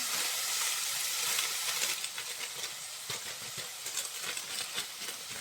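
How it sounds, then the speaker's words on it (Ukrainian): Frozen mixed vegetables hit a hot frying pan with onion already browning, giving a loud, steady sizzling hiss with crackling bursts that settles into a slightly pulsing fry as they are stirred. "Додаємо заморожені овочі, такі красиві, гарні."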